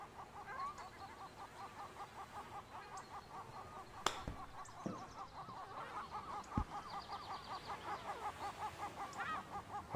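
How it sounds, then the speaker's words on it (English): Loud honking birds near a golf course, a steady run of rhythmic honks and calls repeating over a faint outdoor background, with a couple of sharp knocks mixed in. "Got some really loud birds right now"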